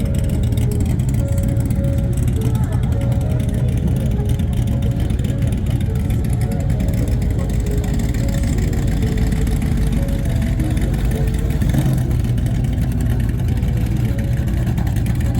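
Racing powerboat engines with side exhausts on a Fountain hull roar steadily and loudly throughout, a dense, throaty drone with slight shifts in pitch as they run, during an offshore powerboat race on the Solent.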